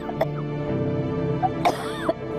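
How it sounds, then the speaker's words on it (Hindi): A woman coughs badly in a television drama scene set in a home courtyard: a few harsh, separate coughs over a steady low background hum, fairly close and moderately loud. "अंसरी अपने आंगन में दाखिल हुई तो माँ बुरी तरह खांस रही थी।"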